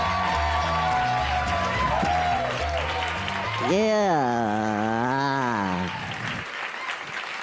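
At a stand-up comedy show, the crowd applauds and cheers to welcome a comedian onstage. The clapping runs under loud walk-on music and a long, drawn-out shouted voice, then cuts off sharply near the end.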